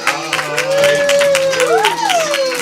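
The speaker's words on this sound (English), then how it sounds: "Give yourselves a big round of applause for coming out." A comedy show audience claps and cheers, with whoops rising and falling over steady applause. The crowd noise is loud and close, lasting the whole moment.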